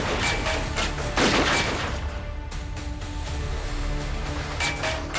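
Gunfire in a televised police-drama shootout, a rapid fusillade of sharp cracks and bangs scattered across the scene, moderately loud against a busy background.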